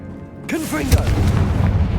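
Blasting spell explosion in the Hogwarts Legacy video game, a sudden loud boom with a rumbling, crackling tail that rings on for over a second, with a brief voice just before it.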